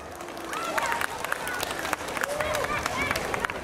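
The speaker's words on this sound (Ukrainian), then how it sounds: "Привітайте оплесками!" An outdoor festival audience at a Ukrainian Days celebration claps and cheers, scattered applause mixing with crowd chatter and occasional whoops, moderately loud and continuous.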